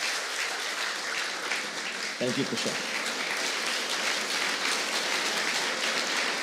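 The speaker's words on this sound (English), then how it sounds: "big round of applause for Kushal Kulkarni" A seated audience bursts into steady, dense applause that runs on throughout, while a speaker briefly voices thanks over the clapping near the start.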